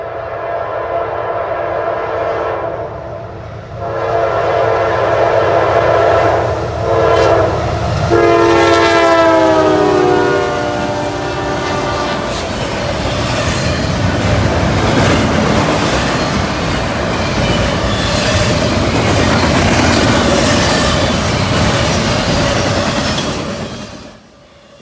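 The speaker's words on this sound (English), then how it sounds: "This is an all-intermodal train." A Norfolk Southern all-intermodal freight train passes close by in Valdosta, Georgia. It sounds its horn in a long, loud multi-tone blast, then wheels rumble and clatter steadily as the cars roll past.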